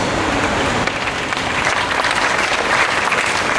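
An audience at a kirtan gathering claps in dense, continuous applause that is loud and sustained throughout, with no clear voice rising over it.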